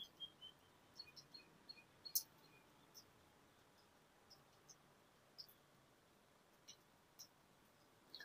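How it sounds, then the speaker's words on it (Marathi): Birds call faintly in the distance from outside a quiet room, giving sparse, thin chirps at irregular intervals over a hushed background. "दूरवरून येणारे पक्ष्यांचे आवाज"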